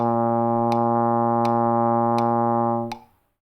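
A single sustained, steady brass tone rings on for about three seconds with faint tonguing accents at regular counts, like a trombone holding notes from a Hot Cross Buns phrase, then fades out.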